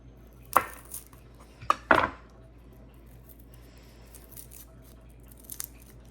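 A knife trims the ends off garlic cloves on a board with a few sharp, close clacks clustered near the start, then a quieter stretch with faint taps and no talking.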